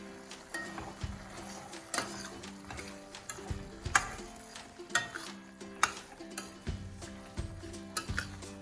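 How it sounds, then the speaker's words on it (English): Sambar simmering in a pot with salt as a spoon stirs it, giving a steady low bubbling under a string of regular scraping clinks against the metal, faint and close with no voices. "And we'll again give it a nice stir"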